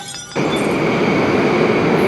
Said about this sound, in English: I hope this is my train.